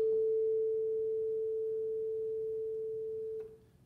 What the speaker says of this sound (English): That means that this vibrates 441 times per second